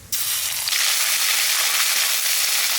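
Ginger paste hits hot oil already fragrant with cumin seeds, bay leaf, cloves, cinnamon and cardamom, bursting into a loud, steady sizzle close by after a brief quiet start, no voices over it.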